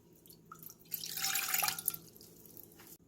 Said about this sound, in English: To a large pot, add 1 cup of water,